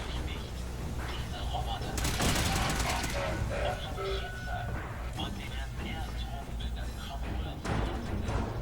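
Gunfire in the video game Fallout 4, with a player under constant fire: dense crackling shots and bursts fill the scene, strongest in the middle, over game noise while someone talks.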